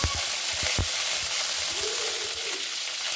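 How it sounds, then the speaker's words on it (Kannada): Curry leaves crackling in hot oil for a tempering, a loud close sizzle with a few sharp pops at the start that eases into a steady hiss. "ಈಗ ಕರಿಬೇವು ಹಾಕ್ಕೋತೀನಿ."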